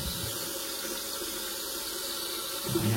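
A toilet cistern refills through its float valve, a steady near hiss of running water that holds level throughout, with a small rise at the very end.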